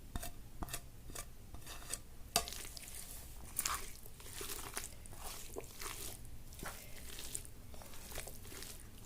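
Boiled potatoes are mashed and mixed by hand with peeled tomatoes and coriander for aloo bhorta, giving soft wet squelches, light taps against a bowl and irregular clicks, quiet and close.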